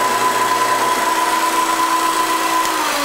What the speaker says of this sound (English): we'll start the lathe up. We'll first start the spindle.